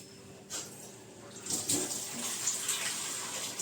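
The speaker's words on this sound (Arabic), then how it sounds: "هنجيب ميه هنحطها طبعا لازم" Water poured into a bowl of batter for fried cauliflower with starch and chopped green coriander, making a soft, steady splashing trickle that starts about midway and runs on to the end at a fairly low level.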